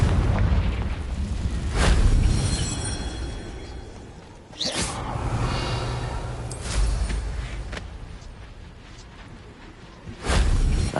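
A Confringo spell from Hogwarts Legacy erupts in loud, booming blasts: a heavy burst near two seconds, a sharp whooshing explosion near five, and a final boom near the end, each over a rumbling low roar.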